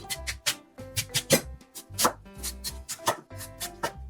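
A knife chops young radish (yeolmu) greens into short lengths for water kimchi, with a steady run of sharp, close, moderately loud cuts against a board and brief pauses between bursts.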